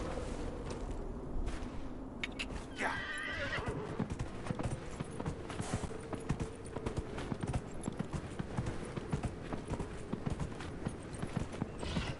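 A horse in the fantasy video game Dragon Age: Inquisition whinnies, then its hooves clip-clop in a steady trotting rhythm over continuous background game ambience.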